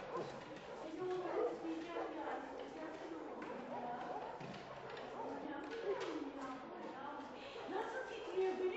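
A trembling dog at an animal shelter gives short barks, yips and whimpers, mixed with thumps and close voices talking over it.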